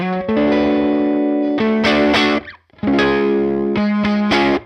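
Electric guitar played through a Universal Audio Woodrow 55 amp emulation with room ambience, ringing sustained chords in two loud phrases separated by a brief pause, with gritty breakup and bright strummed attacks.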